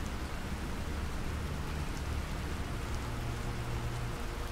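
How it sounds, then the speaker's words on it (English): Heavy rain pours down steadily in the Planet Crafter survival game, a dense, continuous hiss of downpour with a low rumble beneath, loud and unbroken with no talking. "we definitely have rain, and this isn't just a little sprinkle either. This is a downpour."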